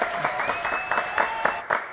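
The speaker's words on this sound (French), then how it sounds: "applaudissements pour Vincent" A studio audience claps for a guest on a French television show, a dense burst of steady applause throughout, with a voice speaking over it.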